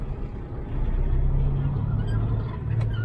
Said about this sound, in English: Put the transmission in 1, and then we're just going to slowly pull away